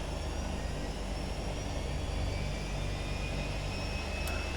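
A twin-engine Realair Duke's second engine runs up in a flight simulator game, giving a steady, even turbine-like drone with a faint high whine throughout.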